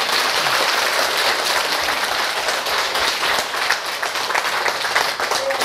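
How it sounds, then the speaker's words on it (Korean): An audience in a laughter yoga session applauds continuously, a dense steady wash of many hands clapping that fills the whole stretch. "공감하시는 분은 겁나게 박수를 쳐버려"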